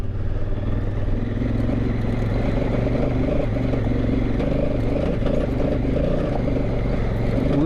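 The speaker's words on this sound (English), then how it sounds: "Second gear climb, I hope." A motorcycle climbing in second gear on a rough backcountry trail, its engine droning loudly and steadily close by with rattling and clatter underneath.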